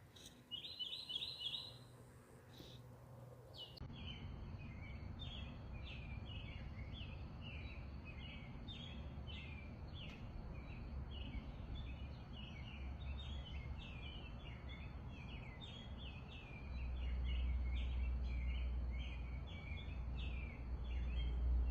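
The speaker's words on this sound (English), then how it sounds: "I started hearing like birds chirping outside my window." Birds chirp outside a window at around 3 a.m., giving off a steady run of quick, repeated high calls. The sound is faint and a little distant over a low background hum that thickens near the end.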